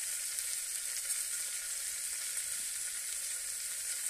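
Onion with cinnamon, cloves, cardamom, star anise and fennel frying in oil, a steady even sizzle throughout with no voices.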